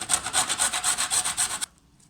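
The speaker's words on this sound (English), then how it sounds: "We will now use this grater and grate it. We will use a small size grater and grate it." A small hand grater rasps through an ingredient for a Moroccan-style pastry: about eight quick, even back-and-forth strokes, close and clear, then it stops abruptly. No talk.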